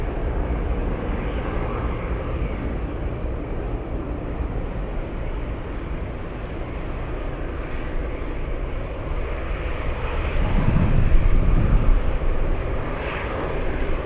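An Air Zeta airplane departs from runway 25 at Anchorage, a steady broad engine roar holding through the whole stretch and swelling slightly near the end, with no voices over it.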